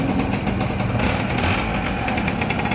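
A small engine runs steadily at a constant idle, a continuous buzzing hum with no voices.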